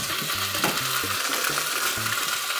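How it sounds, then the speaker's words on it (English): Ground beef fries in a Dutch oven with a steady hiss and crackle, while a utensil stirs and scrapes against the pot in short, uneven strokes. "We're gonna add some ground beef to it."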